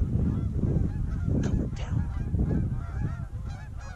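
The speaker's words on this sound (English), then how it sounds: "All these geese out front," Geese honk repeatedly at a late-season goose hunt in Iowa, the calls fairly close and overlapping while hunters speak quietly nearby.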